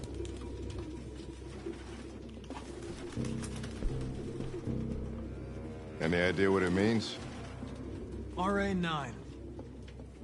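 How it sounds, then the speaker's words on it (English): Pigeons cooing in the video game Detroit: Become Human, a low, steady background of soft repeated coos running under a man's conversation throughout. "A lot of freaking birds."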